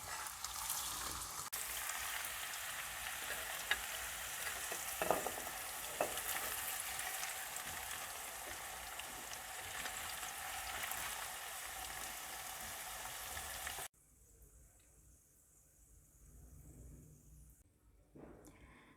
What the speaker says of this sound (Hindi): गाजर को भी डाल देंगे, इसको भी 2 मिनट फ्राई करेंगे